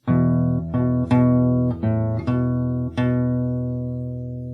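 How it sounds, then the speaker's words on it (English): Guitar playing a song from Cyberpunk 2077 slowly, six clean plucked notes spaced out with a ringing sustain that fades at the end, close and clear, with no talking. "So if I play it really slow, it sounds like this."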